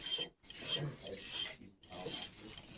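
A flat hand file rasps across metal in a classroom workshop, several close strokes with brief pauses between them, fairly quiet and alone without talk.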